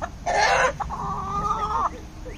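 A hen clucks loudly in agitation right after being attacked by an animal on a farm, one burst of squawking followed by a longer, steady drawn-out cluck, close and alone without talk.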